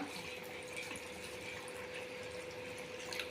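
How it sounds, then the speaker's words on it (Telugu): Water pours steadily and faintly into a pan of pomfret curry, a continuous soft splashing trickle with no voices. "దీంట్లో కొంచెం వాటర్ పోసుకుందామండి, కొద్దిగా"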